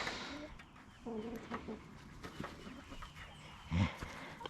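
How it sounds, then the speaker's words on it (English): Chickens clucking nearby outdoors: short, soft clucks scattered through a quiet background, with one louder burst near the end. "What y'all doing, birds?"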